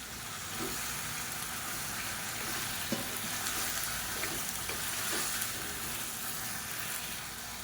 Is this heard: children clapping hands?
no